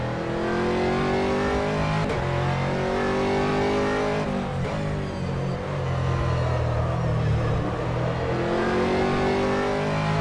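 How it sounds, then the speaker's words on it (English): A race car engine in the rFactor racing game drones loud and steady at the Nurburgring, pitch rising and falling with gear changes as a faster class car approaches, engine noise filling the whole stretch. "There's a faster class car approaching."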